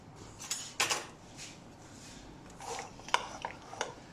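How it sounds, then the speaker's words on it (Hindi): Egg and milk are whisked in a bowl, giving faint, scattered clinks and scrapes of a utensil against the dish in a quiet kitchen, with no talking. "इसको अच्छा सा मिक्स करेंगे।"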